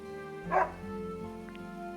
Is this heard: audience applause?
no